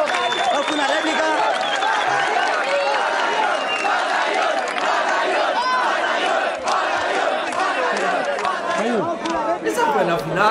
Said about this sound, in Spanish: ¡Aplauso fuerte, hermano!